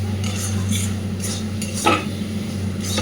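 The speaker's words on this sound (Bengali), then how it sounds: "মাঝে মধ্যে একটু নেড়ে দিতে হবে যাতে তলার" Lote fish breaks apart as it is stirred in a kadai over low-to-medium flame. A utensil scrapes and knocks against the metal pan in irregular strokes over a soft sizzle and a steady low hum.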